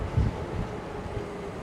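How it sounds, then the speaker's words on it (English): Wind blows across a microphone during an e-bike ride to Miami Beach, heard as a low rumbling buffet with a brief stronger gust near the start. "So it's a little bit windy today."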